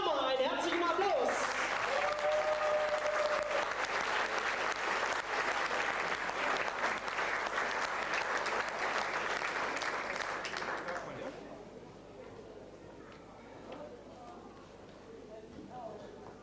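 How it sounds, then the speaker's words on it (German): Applause for the Star Riders drum and bugle corps at a 2004 Hannover drum anniversary event, a dense, loud crowd clapping for about eleven seconds before fading into quieter room noise. "Einen herzlichen Applaus!"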